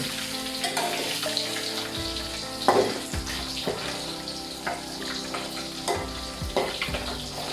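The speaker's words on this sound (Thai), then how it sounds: "เวลาทอดปลานะคะเพื่อนๆต้องทอดให้" Loud, steady sizzling of small gourami fish frying in hot oil in a pan, with occasional crackles and pops bursting through.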